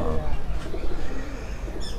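Pigeons cooing nearby, soft low repeated coos over a busy background hum, with faint chirps near the end.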